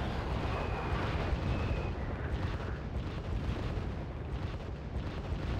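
Continuous roaring barrage from four Bison 81mm mortars in Wargame: Red Dragon, a loud dense rumble of overlapping blasts that holds steady with no pauses.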